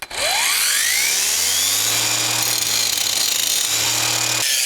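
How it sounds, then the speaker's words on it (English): An angle grinder cuts into a metal rivet on a Jayco camper trailer, a loud continuous high-pitched whine with steady grinding that holds for several seconds, the motor pitch dropping and rising near the end. "so we can't drill this, so it's a grinder."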